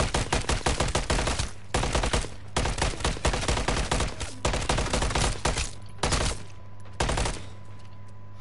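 Rapid bursts of automatic gunfire rip through a zombie horde in MW3 Zombies, with dense repeated shots and brief pauses between volleys, loud and close.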